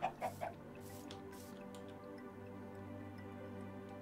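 A chicken in the TerraFirmaCraft video game, three quick soft clucks at the start over a faint steady tonal hum that continues alone afterward.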